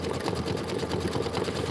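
A sewing machine stitches out a quilt block, a steady close, moderately loud mechanical whir running without pause the whole time, with no talking over it.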